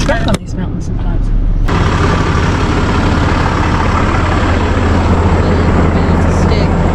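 A loaded stick-shift truck on a mountain road gives a steady, close engine drone and low rumble that settles into a constant roar after a brief, quieter start.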